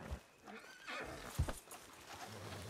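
A horse in the Red Dead RP game neighs briefly among faint hoof clops and soft background game sound, fairly quiet overall.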